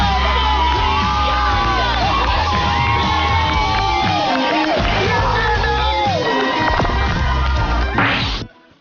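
Crowd at a school graduation ceremony cheering, whooping and clapping loudly, a dense continuous roar with shouts and a few sharp hits, ending abruptly.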